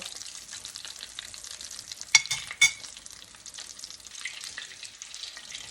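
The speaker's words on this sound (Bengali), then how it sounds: "এখন আমি স্টিমগুলো ভাজা নেব" Continuous bright sizzle of chicken lollipop pieces frying in oil, with two brief louder spatters or clatters partway through; no talking.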